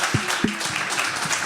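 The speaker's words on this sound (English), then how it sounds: "Let's also get a huge round of applause just to our community tonight" Brief, scattered applause from a small community crowd at a music video event, thin clapping mixed with a couple of short shouted voices at the start.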